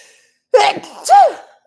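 A single loud, close sneeze: a sharp inhaled catch followed by a burst and a brief trailing vocal tone, with silence around it.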